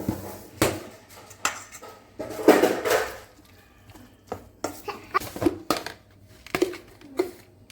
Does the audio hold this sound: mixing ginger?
yes